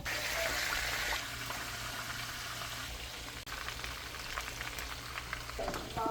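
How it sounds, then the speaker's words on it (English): Battered chicken frying in oil in a frying pan, a steady dense sizzle and crackle running throughout, with a short louder burst of spatter near the start. "Now it's time to dip that chicken in that batter, baby. And put it in that frying pan."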